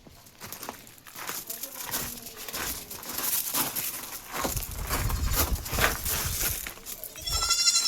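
Young Malabari goat kids bleat repeatedly at close range, several thin cries overlapping amid rustling and shuffling movement, growing busier toward the end.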